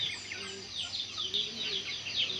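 Chickens in a small backyard poultry yard housing gamecocks, repeated soft clucks and chirpy calls in a quick uneven rhythm, fairly near, with a faint voice underneath.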